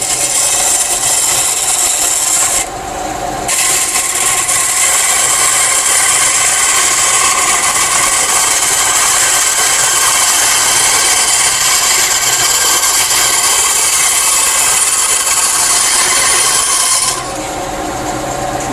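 Bandsaw cutting a curve in wood, a loud steady whine and rasp of the blade through the workpiece, sustained close-up with a brief change at the start and end.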